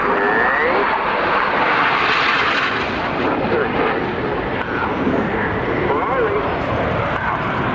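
Twister aerobatic aircraft performing in a display at the RAF Cosford airshow, its engine drone loud and steady across a broad wash of sound with crowd and commentary noise beneath.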